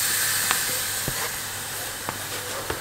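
Minced meat for lasagne hits a hot pot with a steady close hiss of sizzling, broken by a few faint clicks and taps of a spoon.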